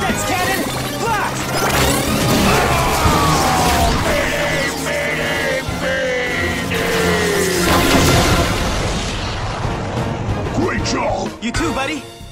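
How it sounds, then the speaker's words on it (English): Power Rangers Beast X cannon firing as a TV sound effect: loud crashing blasts and booms with whooshing energy sweeps, mixed with yelling voices and music over the whole stretch. "Beast X cannon,"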